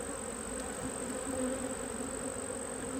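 Honey bees around an opened hive give off a steady, continuous buzz, close and unbroken.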